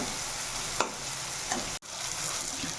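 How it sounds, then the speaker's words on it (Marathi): Tomatoes cooking down in a pan for a tomato chutney give a continuous close sizzle, broken by a couple of brief stirring knocks and no talk. "आता टोमॅटो शिजू द्यायचे चांगले नरम होईपर्यंत"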